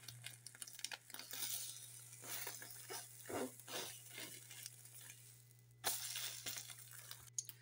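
An egg fries in a little oil on a tawa, giving a soft, close sizzle broken by scraping spatula strokes as it is turned and rolled.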